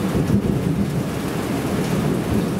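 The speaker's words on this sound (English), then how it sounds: "we have a major thunderstorm right now" A major thunderstorm rolls on steadily, with loud continuous rain and low rumbling thunder filling the background, no voices present.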